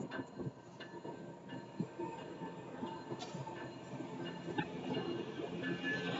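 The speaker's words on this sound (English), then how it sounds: "It's like an intermodal train." Slow northbound Union Pacific intermodal freight train led by two ES44 locomotives rolling past a Stassney Lane crossing, with rhythmic clickety-clack of wheels over rail joints and a steady rumble, close by.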